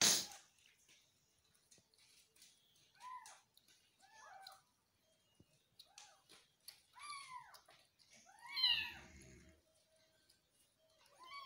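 Hungry kitten being bottle-fed milk, giving a series of short, thin, rising meows in scattered bursts, fairly faint and close, with a soft squishy sucking noise near the end.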